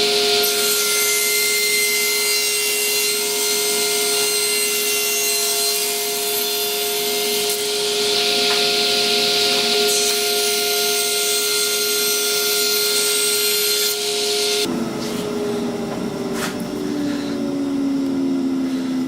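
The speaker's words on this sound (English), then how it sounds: "now I'm going to cut it on the table saw" A table saw cuts a piece of wood with three drilled holes, a loud steady whine and rasping cut that holds for about fifteen seconds before the blade spins down and the tone drops.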